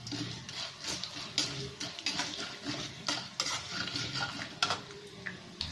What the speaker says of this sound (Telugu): ఇప్పుడు పోపు వేగిపోయింది.